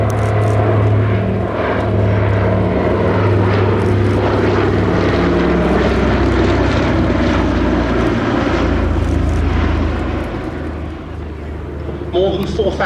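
A World War II-era propeller plane drones loudly and steadily close by at an airshow at East Kirkby, its engine roar filling the whole stretch before easing slightly near the end.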